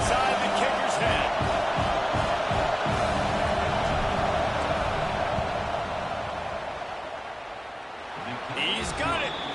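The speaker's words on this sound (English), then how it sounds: "This crowd trying to do its part to get inside the kicker's head." A roaring college football stadium crowd in NCAA 25 builds steady, loud noise ahead of a field goal attempt, a continuous wash of cheering and whooping that dips slightly near the end.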